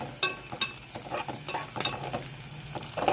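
Sliced onions fry in a pan until light pink, a soft, close sizzle broken by irregular scraping and clinking as a spoon stirs them.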